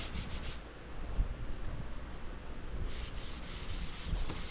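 Car bodywork is hand sanded with 180 grit over guide coat, a faint continuous rubbing scratch that shifts in strokes, quiet and without talk.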